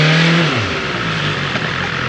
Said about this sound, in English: Don't you just love the acceleration on this bike? The sound?